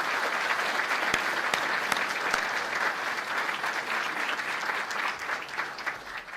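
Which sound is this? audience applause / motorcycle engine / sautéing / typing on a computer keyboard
audience applause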